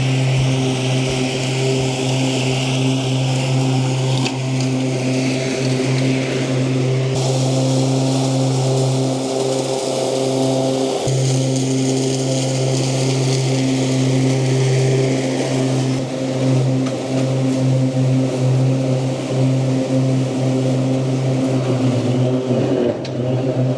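Zero turn mower cutting weeds and long grass with its blades cranked to full speed, a loud, steady engine drone with strong low hum and whirring blades, close and continuous throughout with no talk.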